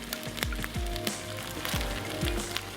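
Carrots sizzling in a pan over high flame, a steady crackling fry with repeated scraping strokes throughout.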